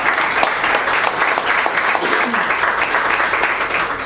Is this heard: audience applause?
yes